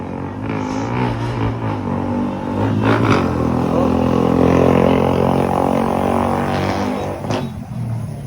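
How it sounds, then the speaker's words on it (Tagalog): A Suzuki Raider 150 motorcycle engine revving loudly and noisily nearby, with a rising and falling rough drone and a couple of sharp blips, and faint voices in the background. "May nag-iingay dito kaninang Raider 150 kanina pa."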